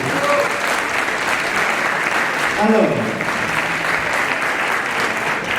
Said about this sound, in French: je vous demande vraiment de les applaudir et les remercier